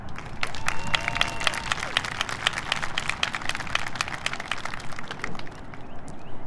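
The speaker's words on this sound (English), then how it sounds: "That right there deserves a roar of applause." An outdoor graduation ceremony crowd on a college lawn bursts into loud applause and cheering, thick continuous clapping with sharp individual claps and whoops rising over it for several seconds.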